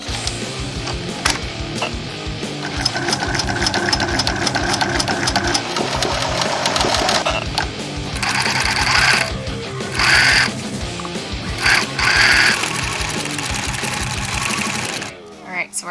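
Sewing machine stitching a thermal blackout van window cover made with Reflectix and tape, running in long steady bursts with brief pauses and a stop near the end, close and fairly loud.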